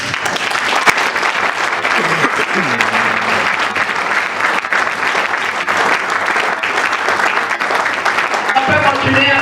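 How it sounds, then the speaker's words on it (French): Seminar audience at a diabetes training session applauding loudly and continuously, a dense steady roar of clapping with brief voices murmuring underneath. "On peut continuer à applaudir très fort."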